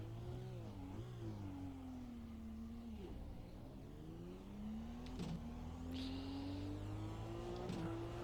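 A race car engine in the iRacing sim at Road America drones steadily, its pitch dipping and climbing as the revs rise and fall, loud and continuous with no talk.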